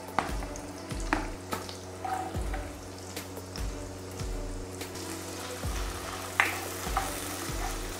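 Carrots and beans frying in oil for Indo-Chinese chicken fried rice, a steady close sizzle with periodic clinks and scrapes of a utensil stirring the pan.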